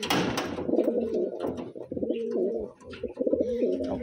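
Wantai auction pigeons coo close by in repeated rolling, throaty phrases, several bursts in a row with brief pauses between, after a rustling scuffle at the start.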